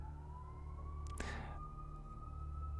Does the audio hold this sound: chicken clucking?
no